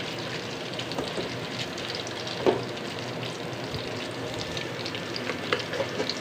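Onions fry in oil in a pot for beef khichuri, a dense continuous sizzle with occasional stirring scrapes, close and steady with no talking.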